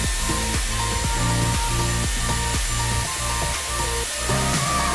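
A Dyson Airwrap hair styler blows cool air while curling hair: a steady, close whooshing airflow with a faint rhythmic low pulsing running underneath, no talking.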